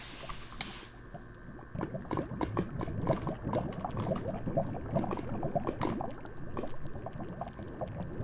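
Liquid bubbles and gurgles during a casting process in a video game, a dense run of quick bloopy pops. It starts after a brief sharp onset and keeps a moderate, even level throughout, with no voices.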